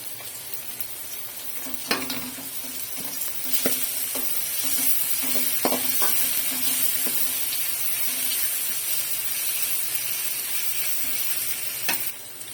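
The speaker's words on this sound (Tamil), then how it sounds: "இஞ்சி பூண்டு பேஸ்ட் சேர்த்துக்கலாம்." Ginger garlic paste fries with onions in oil in a pan, giving a steady close sizzle broken by repeated scraping stirs and clinks of a spoon, with no talking.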